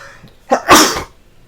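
A single sharp sneeze bursts out close by, a quick intake followed by a loud explosive release lasting about half a second, with near silence before and after.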